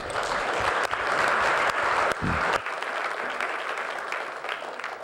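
Applause from the public at a Palo Alto city council meeting, a dense burst of many hands that fills the room, then thins out and fades away.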